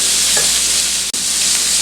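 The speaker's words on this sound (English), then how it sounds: "throw a little bit of butter so your sausage doesn't stick and get burnt" Sausage frying in butter in a pan for breakfast burritos gives a steady, loud, close sizzle with a single brief drop partway through, and nobody speaks.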